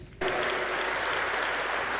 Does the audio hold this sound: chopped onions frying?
no